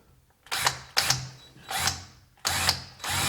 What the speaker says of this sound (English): we're going to have to drill this rivet out